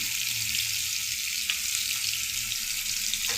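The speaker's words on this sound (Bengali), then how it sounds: "এটাতে আলু ভাজি করব" Oil sizzles in a pan as potatoes fry in a home kitchen, a steady, dense hiss that runs unbroken throughout with a faint clatter now and then.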